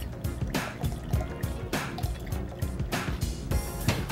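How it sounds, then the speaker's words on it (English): Orange juice and cranberry juice pour steadily into a pitcher of non-alcoholic sangria made with alcohol-free Chardonnay, a continuous close, loud liquid gurgle with splashes throughout and no talking. "I'm going to add about a cup of orange juice and about half a cup of cranberry juice."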